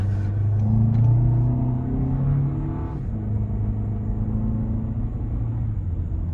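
A 2024 Toyota Grand Highlander Limited with a turbo four-cylinder engine growls low and steady while driving at night, a close, loud drone that shifts pitch slightly as revs change, with no talking.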